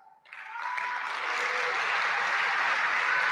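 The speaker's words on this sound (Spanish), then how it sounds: "Un fuerte aplauso, por favor" Audience applause at an award ceremony at UNAM in Mexico, starting after a short tone and swelling quickly into steady, dense clapping from a large crowd that holds at full strength to the end.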